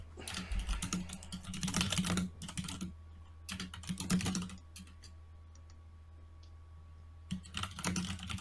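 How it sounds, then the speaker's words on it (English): Loud, rapid clattering of computer keyboard typing in bursts with short pauses, close and dry, alone without speech, during an online tabletop game session. "your keyboard's super loud again"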